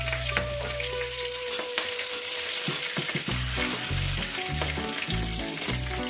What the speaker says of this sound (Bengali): গোটা লঙ্কা তেলের উপরে দিলে তেলটা ঠিক করে